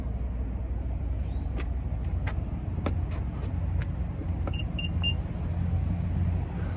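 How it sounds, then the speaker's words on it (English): A 2025 Nissan Rogue's warning chime, a few short, high electronic beeps in quick succession over the running engine's steady low rumble, fairly quiet and close by. "it's just beeping at me because the car is running and I have the key in my pocket"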